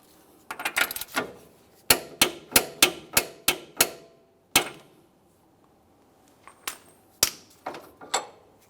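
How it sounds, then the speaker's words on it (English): A torque wrench turns clockwise to tighten the front axle nut of a 2008-2017 Mitsubishi Lancer to 129 foot-pounds, producing a fast run of sharp metallic clicks, then several more scattered clicks after a short pause. "We'll start turning this clockwise, torquing it to 129 foot-pounds."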